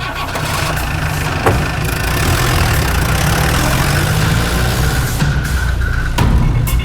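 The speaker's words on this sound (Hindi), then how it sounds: "आजा बैठ जा स्कूटर पे।" A scooter engine running close by, a loud, steady mechanical drone with rattling and a few sharper knocks, continuous throughout.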